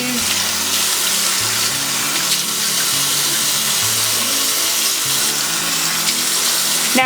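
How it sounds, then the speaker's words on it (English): A tap runs steadily into a sink while makeup brushes are washed, a continuous close splash with a hum beneath and small handling bumps throughout. "Turn on the water."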